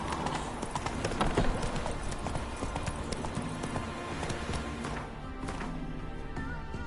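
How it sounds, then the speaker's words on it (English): Horse hooves galloping in The Witcher 3 video game, a brisk steady clip-clop rhythm continuing throughout at moderate loudness with game ambience underneath. "Run, Roach. Slow now. Whoa"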